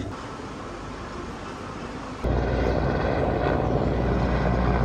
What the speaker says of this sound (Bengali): এত কাছ থেকে হেলিকপ্টার যাচ্ছে একদম আমাদের জানালার কাছ থেকে